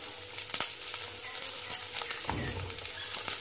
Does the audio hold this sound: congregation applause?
no